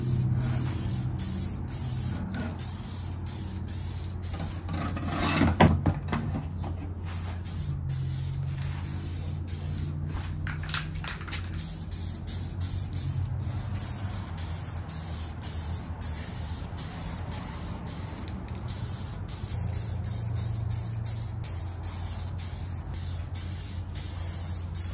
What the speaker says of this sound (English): gonna start hitting this with some paint